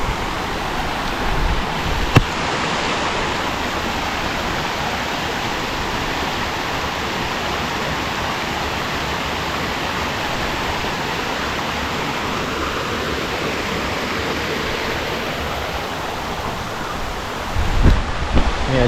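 A waterfall in the Dumbara valley tumbles down in tiers like a staircase, producing a loud, continuous roar of rushing water that stays close and unbroken throughout.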